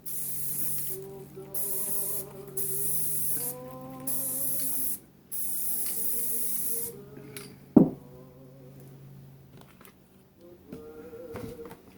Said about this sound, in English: So I sprayed mine upside down first